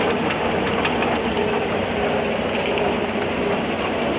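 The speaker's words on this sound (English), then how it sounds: "So this engine will now be hauling the train down." A miniature railway engine hauls its train at Ruislip Lido, a continuous rolling rumble and rattle of wheels on track with faint rhythmic clicks, loud and close throughout.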